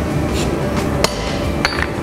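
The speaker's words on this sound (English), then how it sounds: "We'll go ahead and throw our touch mark on it." A maker's touch mark is hammered onto a steel part for a basket hilt rapier sword in a forge workshop. Two sharp metallic strikes ring out close over a loud, steady background roar, with no talking.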